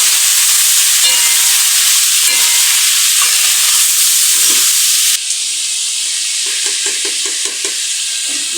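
Onion, garlic and green chili hit a hot pan with a loud, continuous sizzle and frying hiss, stirred now and then with soft scraping, the sizzle dropping slightly partway through and carrying on steadily.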